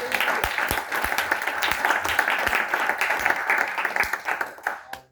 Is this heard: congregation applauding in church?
yes